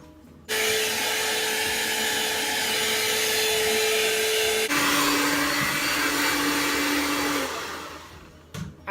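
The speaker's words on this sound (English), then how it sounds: "I gotta blow dry my hair" Hair dryer blowing hair dry, a loud, steady, close airflow roar with a fan whine. It runs continuously for about seven seconds, shifts pitch partway through when the speed setting changes, then cuts off.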